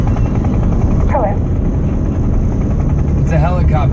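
A helicopter flies overhead above an I-210 West freeway near Rancho Cucamonga, its steady rotor and engine roar filling the scene continuously alongside traffic rumble, with voices talking over it.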